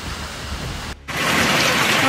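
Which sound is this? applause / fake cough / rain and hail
rain and hail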